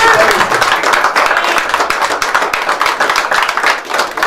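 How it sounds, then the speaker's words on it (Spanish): A crowd claps loudly and continuously at an awards ceremony honoring competitors of a northern association, the brisk applause staying thick and close throughout with faint voices mixed in. "un aplauso"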